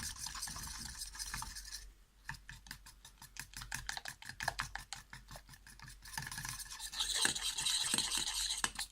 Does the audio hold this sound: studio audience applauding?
no